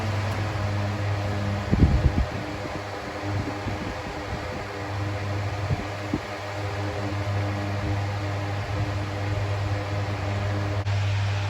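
A 2000s Bionaire 2cool 16-inch pedestal fan runs on medium, a loud, steady airy roar with a constant low hum and brief handling rustles early on.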